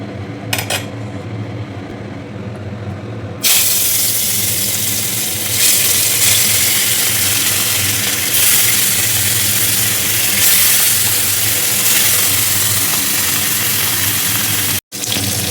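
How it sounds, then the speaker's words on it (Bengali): Fish frying in hot oil in a home kitchen while lunch is cooked. A quiet start with a few clinks gives way to a loud, steady sizzle that runs for about twelve seconds, with occasional pan and utensil clatter. "তেলটা গরম হয়ে গেছে, এখন আমি মাছটাকে ভেজে নেব।"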